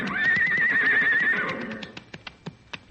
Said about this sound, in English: here he comes with the horses.